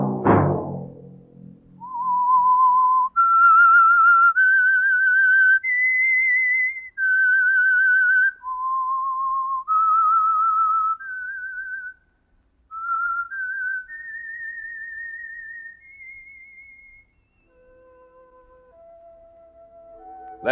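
A single person whistles a slow, clear theme melody of sustained notes, stepping up and down in pitch, close and alone with brief pauses between phrases, from a 1948 radio program.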